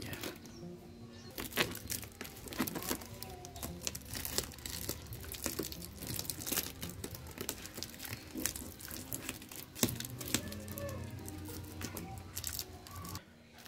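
Packing tape is torn and pressed down to seal a container of homemade organic fertilizer, giving continuous close crinkling, ripping and crackling for many seconds with no talk.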